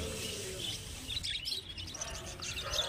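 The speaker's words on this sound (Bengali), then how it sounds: "এখানে বদ্রি পাখি দেখতে পাচ্ছেন 370 টাকা জোড়া" Many budgerigars chirp and tweet in overlapping bursts over a steady background hum, a busy chorus of caged birds nearby at the Garia bird market.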